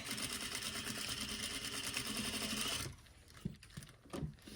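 A sewing machine backstitching a seam in pattern-matched drapery fabric in a workroom, its fast, steady whirring running loud and continuous for about three seconds, then stopping into quiet handling noises.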